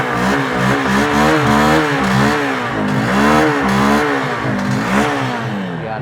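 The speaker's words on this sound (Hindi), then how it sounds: "ये लो आइडियल कंडीशन पर इंजन साउंड सुनो, एग्जॉस्ट नोट सुनो।" A 2026 Honda SP 160 motorcycle engine revs up and down repeatedly, its loud, throaty exhaust note rising and falling close by.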